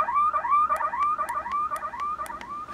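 A 1byOne wireless driveway alarm, 2020 version, sounds a repeating warbling electronic chime, rapid rising tones cycling evenly with sharp clicks, loud and close, with no talking.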